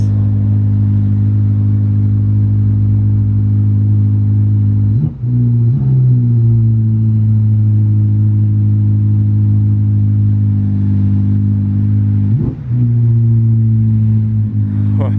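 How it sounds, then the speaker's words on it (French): A Ferrari SF90 idles with a deep, loud, steady engine drone in a narrow street. It blips its revs twice, briefly, with the sound echoing off the walls close by. "elle résonne fortement dans cette petite ruelle, la SF90"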